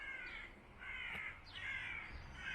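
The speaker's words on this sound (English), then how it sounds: "Yeah, they're birds." Crows caw repeatedly outdoors at a moderate distance, several harsh calls spaced through a quiet residential street, with no talking.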